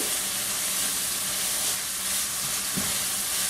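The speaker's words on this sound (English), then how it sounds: "So I'm going to stir that all in." Crushed red pepper and Cajun seasoning being stirred into a sizzling pan for keto dirty rice, a steady close frying hiss with soft scraping of the stirring and a brief thump near the end.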